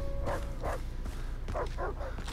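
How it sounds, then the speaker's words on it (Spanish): Dogs in the Far Cry 3 video game bark in a quick series of sharp, yappy bursts over a low rumbling game background. "Uy, perritos."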